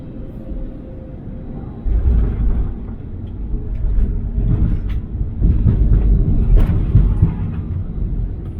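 British Airways plane descending to land on runway 09 left at Heathrow, heard from inside the cabin as a steady low engine and airframe rumble that swells and grows rougher toward touchdown.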